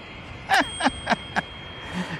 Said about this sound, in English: See, got a bell.